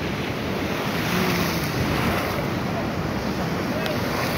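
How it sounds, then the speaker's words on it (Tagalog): Rough ocean waves crash at a beach shore in a steady, dense roar mixed with wind buffeting the microphone, loud and continuous without a break. "malupit ang alon, malupit. Nagkahagupit ng alon."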